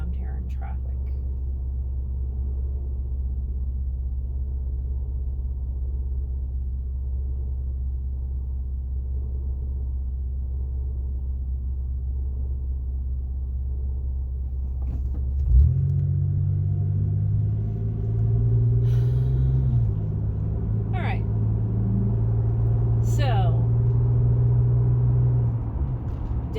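A car drives slowly in city traffic on Garden of the Gods Road in Colorado, with a constant low engine and road rumble heard from inside the cabin and a shift in engine tone partway through.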